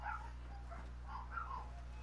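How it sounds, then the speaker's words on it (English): Dogs barking and yipping excitedly at a distance, a faint, steady run of repeated barks under a constant background hum, with no one talking. "Go find out why the dogs are going crazy."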